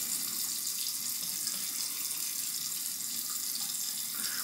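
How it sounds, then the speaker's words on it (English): Warm water runs steadily from a bathroom tap into a sink before shaving, a continuous close hiss and splash with no pauses. "Let's put some warm water."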